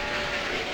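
A train running in the Railroad Tycoon II game, a steady rolling rail rumble with a faint clatter, continuous and moderately loud with no talk over it.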